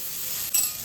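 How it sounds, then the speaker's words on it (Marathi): Capsicum hits hot oil with fried spices in a pan for a Maharashtrian mixed vegetable bhaji, giving a steady close sizzle that flares louder twice as it is stirred. "आता आपण त्याच्यामध्ये शिमला मिरची घालूया"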